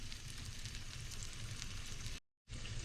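Butter melting in a stainless steel pan for sausage gravy, a steady close crackling sizzle that runs evenly, cuts out briefly near the end, then resumes.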